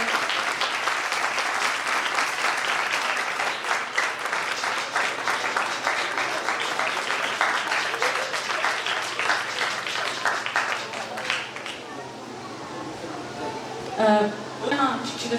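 Loud, sustained applause from children and adults at a prize distribution, dense continuous clapping that thins out near the end, with voices speaking over it.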